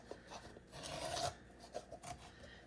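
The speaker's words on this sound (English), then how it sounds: "then I'll go back with some sandpaper and really clean it up" Sandpaper rasps against paper glued to wood in short back-and-forth strokes, a close, quiet scratchy rubbing in irregular bursts with no talking.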